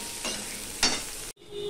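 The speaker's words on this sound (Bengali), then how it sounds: "পেঁয়াজ আর আলু ভাজা হবে" Onion and potato pieces hiss in hot oil in a pan, two short sizzling bursts as they hit and are stirred, then a brief cut before quieter frying resumes.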